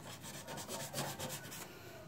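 Fine sandpaper rubs back and forth over a leaking motorcycle fuel tank in quick, even strokes, a quiet, close scratching rhythm that stops abruptly near the end.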